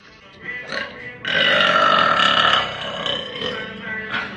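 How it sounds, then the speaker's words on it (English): A deep, drawn-out human burp swells loud and sustained for over a second, followed by shorter rumbling belches tapering off, close and alone without talk. "Burps are nasty."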